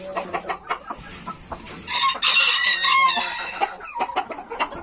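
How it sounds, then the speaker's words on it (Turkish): Brown Nick hens cluck close by in a short series of clucks, with a rooster crowing loudly partway through before the clucking resumes. "bu bizim Brown Nigorin tavuklarımız"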